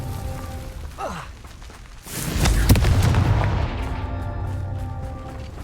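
A Confringo blasting spell in the Hogwarts Legacy video game lets out a rising whoosh, then a heavy booming explosion with a long, rumbling crackle that fills the rest of the moment.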